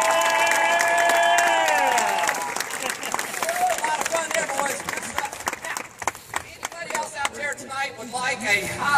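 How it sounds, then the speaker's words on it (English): Street-show crowd applauding a juggling and unicycle performer; a voice sings a held melodic line at first, then scattered clapping builds into lively applause mixed with some cheering. "I think he deserves a nice thunder round of applause."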